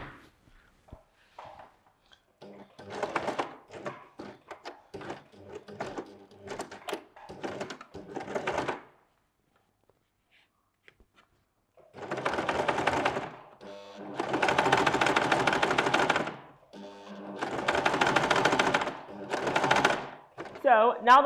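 A sewing machine stitches the brim of a fabric sunhat in several bursts of rapid whirring, close and fairly loud, separated by short pauses.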